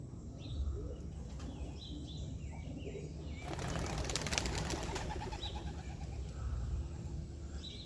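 Racing pigeons at a home loft cooing softly, followed by a burst of flapping wings as birds take off, moderately close with outdoor ambience.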